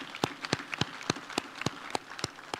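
At an Alupe University graduation ceremony, the audience claps in a steady, evenly spaced rhythm of sharp, distinct claps that sound fairly faint and distant, with no speech.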